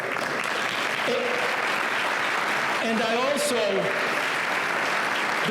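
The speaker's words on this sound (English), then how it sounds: "I'm going to ask them to make the applause a lot stronger than that" Steady applause from the audience at a partnership's annual meeting and tenth anniversary event, with a person speaking over the clapping partway through.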